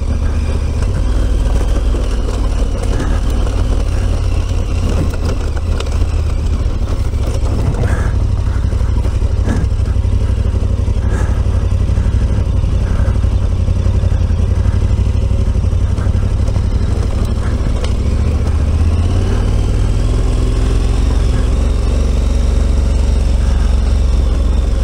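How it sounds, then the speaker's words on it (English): KTM 1290 Super Adventure motorcycle riding up a rough, rocky mountain road, its engine droning loud and steady throughout with wind buffeting and rattling clatter from the stony track, heard from onboard. "Part of the road up here is pretty nasty for big bikes like this"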